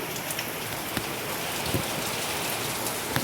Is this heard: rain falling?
yes